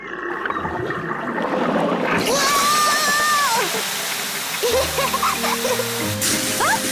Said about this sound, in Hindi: पेपा ने पाइप पकड़ी और डैडी पिग ने पानी शुरू कर दिया।